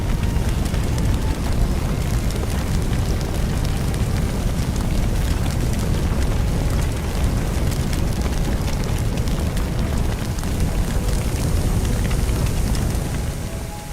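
A fire hose sprays water onto flames in Firefighting Simulator, a steady, loud broadband hiss and rushing roar that continues unbroken throughout and tapers slightly at the end.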